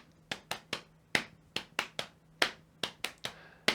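Bare hands tapping out a two-against-three polyrhythm, a dozen crisp close slaps in an uneven interlocking pattern, alone and fairly quiet.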